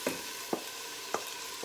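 Washed rice tumbles into a hot pot for cook-up rice, a close sizzling hiss broken by three or four sharp scraping stirs at uneven intervals.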